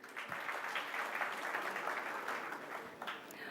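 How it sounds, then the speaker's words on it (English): Audience applause at an institute Foundation Day ceremony, a sustained, even wash of many people clapping, moderately distant and steady for a few seconds. "A big round of applause once again,"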